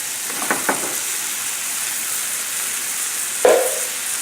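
Fresh tomatoes added to a hot pan, a steady sizzling hiss with a couple of soft taps early and a sharper splash-like burst near the end.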